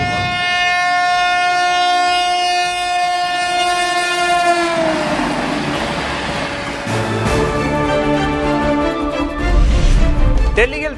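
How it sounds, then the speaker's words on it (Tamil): A train on a high-speed trial run between Jolarpettai and Coimbatore roars past with a long, loud horn blast that bends in pitch as it goes by, followed by rumbling wheels and rushing noise. "ஜோலார்பேட்டையிலிருந்து கோவை வரை ரயில்களின் அதிவேக சோதனை ஓட்டம்"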